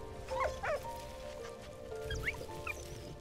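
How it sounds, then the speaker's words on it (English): A dog in the video game Valiant Hearts gives short yips and barks in a few quick bursts, fairly close over a low background hum, warning of danger. "I like this little game mechanic with the dog warning you."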